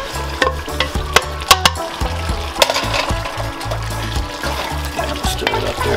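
Ackee tipped into saltfish frying in a pan for Jamaican ackee and saltfish, a steady close sizzle with soft stirring scrapes and light liquid sounds, with no talking.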